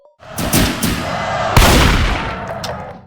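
Gunfire from a flower-pattern gun in a horror video game, aimed at a cartoon cat creature in a hotel: loud blasts with sharp onsets and long noisy tails, one heavy shot landing midway through the burst.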